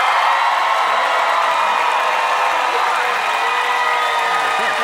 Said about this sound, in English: All righty, so clap hard.